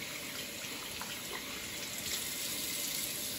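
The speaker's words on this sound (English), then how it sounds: "the fifth and final important step is to rinse and dry" A water tap runs steadily while hands are rinsed, a continuous even gush of water into a sink, close and alone without talk.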